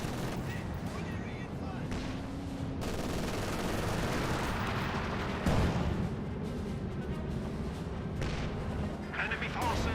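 Sustained MG42 machine-gun fire in the World War II strategy game Company of Heroes 2, rattling bursts mixed with booming artillery and explosions in a dense, continuous battle din.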